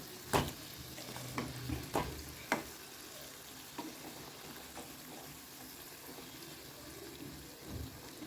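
Vada deep frying in hot oil in a home kitchen, a faint steady sizzle with a few sharp clinks of a utensil early on, no talking.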